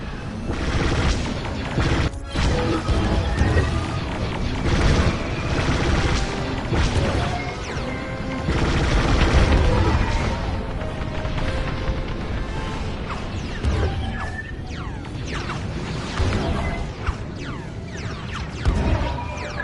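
Blaster fire and explosions from the Star Wars: Squadrons video game played in PSVR during a trench attack: a dense, continuous barrage of laser shots, crashing booms and whooshing passes, loud and busy throughout.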